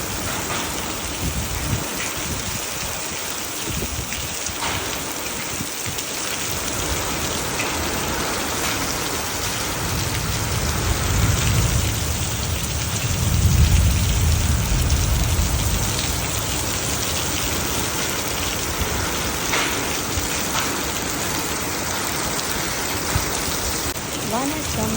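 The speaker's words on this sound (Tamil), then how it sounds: "ஒரு 20 நிமிஷமாக நல்ல காற்றுடன் கூடிய மழை" Heavy rain falls with strong wind in Rayavelur, a dense, continuous roar of drops on surfaces with low gusty rumbles swelling midway, close and loud throughout.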